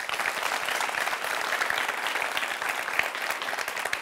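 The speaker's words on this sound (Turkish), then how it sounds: "Bir alkış alalım." An audience applauds during a talk show about lying and honesty. The clapping is dense, continuous and close, with no voices on top.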